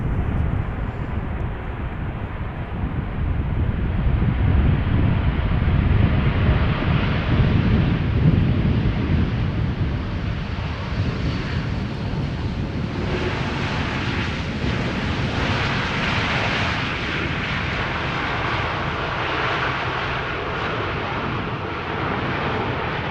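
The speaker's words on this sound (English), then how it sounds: "Here we have TUI flight 391 arriving from Willemstad, Curaçao, Boeing 7878 Dreamliner" A TUI Boeing 787-8 Dreamliner arrives at Amsterdam Schiphol with a broad jet engine roar that swells, holds and slowly fades, heard from a distance outdoors with wind on the microphone.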